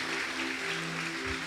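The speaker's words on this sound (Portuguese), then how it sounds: "Você pode aplaudir a Ele?" A church congregation applauding during a sermon, a faint, distant wash of clapping over a steady low hum, fairly even throughout with no voices on top.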